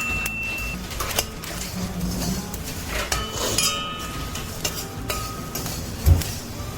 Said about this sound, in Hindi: हल्का हल्का ऐसे चलाते रहिए।